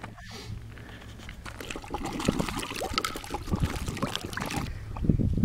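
Water trickling and pouring through a failing septic system's drainage being repaired, a steady liquid gurgle that builds after a quiet start and runs continuously, fairly close.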